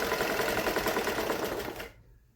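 A home sewing machine runs in a fast, steady stitching whir while sewing lace onto fabric. It is close and fairly loud, then stops abruptly near the end and leaves near silence.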